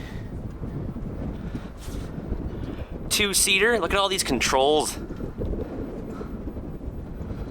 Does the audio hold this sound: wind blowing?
yes